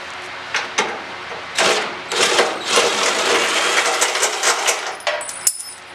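Metal washers clatter and drop one after another as bolts come off a Jeep CJ7 15-gallon gas tank, making bright close jingles and rattles in irregular bursts with no talking.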